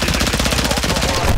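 Automatic gunfire in Call of Duty Warzone, a rapid rattling burst of closely spaced shots, loud and near, running the full length without pause.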